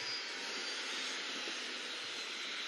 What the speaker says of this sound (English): The E button cuts your engine, so I'm going to cut my engines right now